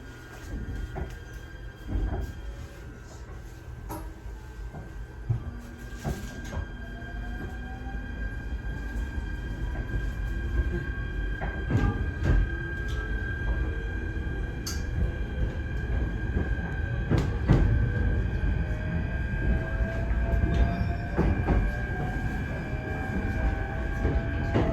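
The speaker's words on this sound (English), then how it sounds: "The motor is pretty nice sounding though" An electric train's traction motor whines in rising and shifting tones under steady rumbling wheel and car noise on a JR East Joetsu Line local to Nagaoka, with occasional sharp clanks, loud and continuous.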